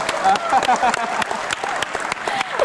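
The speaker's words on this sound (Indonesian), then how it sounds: "Tepuk tangannya mana?" Scattered clapping from an outdoor crowd at an Indonesian Independence Day folk festival, uneven claps and cheering mixed with crowd chatter and brief whistle-like tones.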